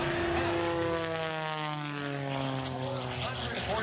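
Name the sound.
Rob Holland's aerobatic propeller airplane at airshow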